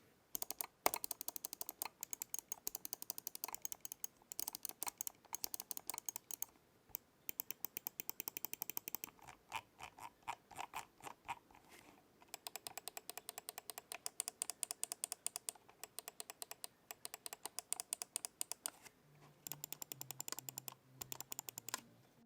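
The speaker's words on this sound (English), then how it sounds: "here's just a quick sound test of how all the buttons on the X5 sounds" Rapid plastic clicking of the small buttons on a Cougar Minos X5 gaming mouse, pressed in quick bursts and single taps with short pauses between, close up and alone.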